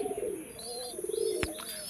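Pakistani pigeons coo softly in a low, wavering murmur over a steady background hiss, with a brief sharp click partway through.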